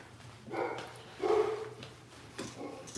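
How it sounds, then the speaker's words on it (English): A dog barks a few times at moderate distance, short separate yaps spaced out over a few seconds in a quiet room. "Someone said stop barking."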